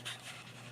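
A dog pants quickly in short, breathy puffs, faint and close, in a brief burst with no other sounds.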